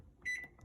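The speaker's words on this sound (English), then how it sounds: "press this button on your microwave" A microwave oven with mustard inside gives a short, faint electronic beep as its button is pressed, followed by soft clicks in an otherwise quiet room.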